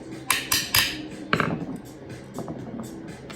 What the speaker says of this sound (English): Get these screws out of here before I lose those.